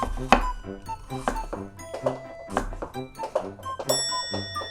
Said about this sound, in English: Cut the bottom of the carrot so it can lie flat on the cutting board. And make sure to slice thinly.